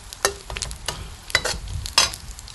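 Chinese sausage fries in pork lard while a utensil stirs it: a handful of sharp scraping clicks over a soft, steady sizzle, close and fairly quiet.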